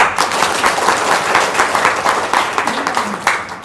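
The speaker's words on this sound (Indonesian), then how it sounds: "Tepuk tangan dong." Audience applause at an Indonesian talk, a dense sustained burst of many hands clapping throughout, loud and close with faint crowd noise underneath.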